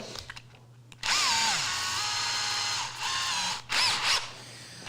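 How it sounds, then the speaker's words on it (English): A power drill whirs up after a second of quiet, spinning steadily at high pitch during wood box making, briefly dipping and then revving again near the end. "You put that in your drill."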